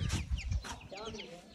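Domestic hens cluck in short bursts near a farmyard straw pile, with a few quick calls standing out over faint background noise and a voice speaking nearby.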